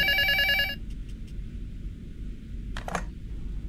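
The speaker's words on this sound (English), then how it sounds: "The phone ringing." Telephone ringing in the Prophecy horror video game: a loud, shrill electronic bell burst that cuts off abruptly, followed by quiet clicks and a short clatter over low background hum.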